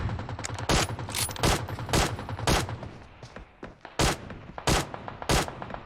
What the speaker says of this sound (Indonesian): suara tembakan dan bom granat juga terdengar sangat menggelegar